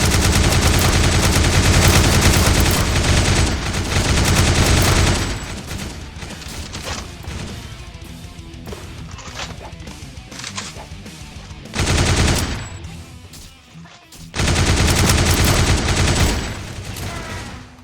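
Rifle fire in a Roblox zombie-survival shooter: loud, rapid bursts of shots fill the first five seconds and return around twelve and from fourteen seconds on, with quieter scattered shots and game noise between.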